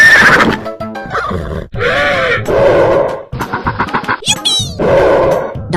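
Horse neighing loudly and close, a series of rising and falling whinnies with breathy snorts and grunts between them.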